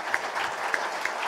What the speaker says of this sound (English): Can we give our panelists a round of applause?